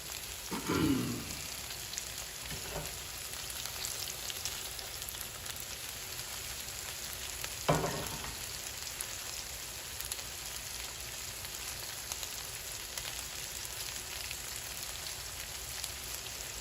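Food sizzling in an uncovered pan over heat, a steady crackling hiss running throughout with a couple of brief louder clatters near the start and around the middle; no talking.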